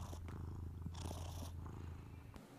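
A cat purring inside a used bookstore, a soft continuous rumble heard up close with faint room noise and no speech.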